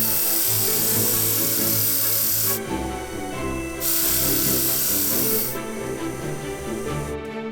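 A sanding wheel coated with cerium oxide and water grinds against a glass bottle top, a loud continuous rasping whir that swells and eases as the glass is pressed on and lifted off.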